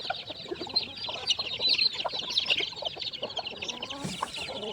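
Devavaram-breed roosters and hens cluck busily in a coop, with overlapping calls and squawks close by and continuing without a break.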